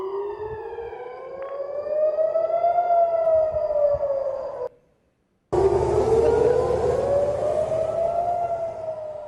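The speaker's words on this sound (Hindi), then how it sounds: "यहां पर किस तरह से लगातार जो एयर रेड के सायरन है, उसको लेकर अलर्ट किया जा रहा है।" Air raid sirens wail over Tel Aviv, rising and falling in long loud tones from more than one siren, with a brief gap of silence in the middle before the wailing resumes.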